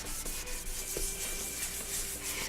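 Hand block sanding of primer on Bimota motorcycle fairings, a close, loud, continuous scratchy rubbing with rhythmic back-and-forth strokes and no voices.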